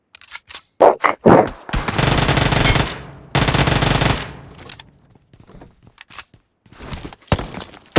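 Loud bursts of Uzi fire in a video game: short staccato shots, then two long sustained volleys, followed by scattered single shots and thuds, with no talking.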